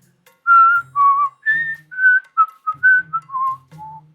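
A person whistles a short tune of about ten clear, pitched notes, some sliding and some held, close and fairly loud with brief pauses between notes and no talk.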